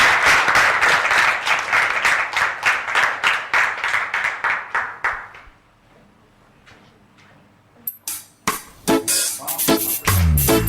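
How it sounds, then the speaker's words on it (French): An audience greets a singer with about fifteen loud, rhythmic claps in unison. A near-silent pause follows, then a few scattered sharp sounds. "On l'applaudit."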